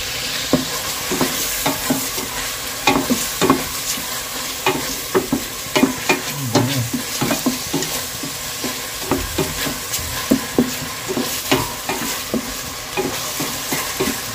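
Ground meat sizzles steadily in a pan with salt added while a utensil stirs and scrapes at a regular rhythm, close and moderately loud.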